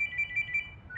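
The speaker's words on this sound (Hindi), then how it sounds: "चंदू का फोन?" A mobile phone rings in a Hindi-dubbed movie scene, a steady repeating electronic ringtone with short evenly spaced bursts running throughout, fairly quiet with no talk over it.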